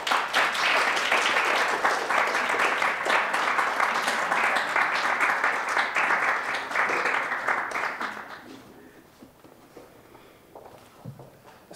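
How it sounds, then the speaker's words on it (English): Audience applause welcoming poets to the stage at a public event, a dense steady round of clapping that fades out after about eight seconds, leaving faint room noise and footsteps. "A round of applause to welcome our poets to the stage."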